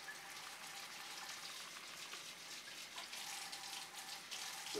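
Warm tap water runs steadily into a sink while a Berkey water filter element is rinsed, a continuous hissing splash at close range with no voices.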